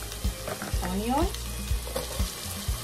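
Onion hits hot virgin olive oil in a pan and frying starts, a close continuous sizzle broken by several sharp clanks and scrapes of a utensil, with no one speaking.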